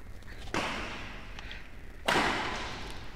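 Two sharp badminton shots in a ladies singles match, each a crisp broadband smack followed by hall reverberation, spaced about a second and a half apart over steady arena ambience.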